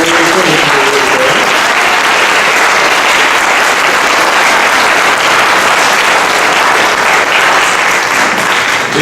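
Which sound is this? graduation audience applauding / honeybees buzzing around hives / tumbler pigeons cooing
graduation audience applauding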